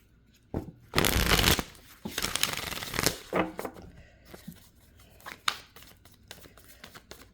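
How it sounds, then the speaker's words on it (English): A deck of cards is shuffled in a few quick riffling bursts up close, followed by softer intermittent flicks and taps as the cards settle. "Don't have to shuffle that much because I already did."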